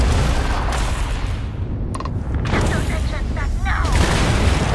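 Ship weapons firing in Starfield space combat, including magnetic guns and an ACS weapon: dense booming gunfire and bursts fill the clip continuously, with sharp bright shots layered over a heavy low rumble.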